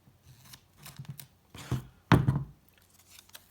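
Scissors cut a piece of paper for a tri-fold folio album, making several crisp snips at irregular intervals, louder toward the middle, in a quiet room.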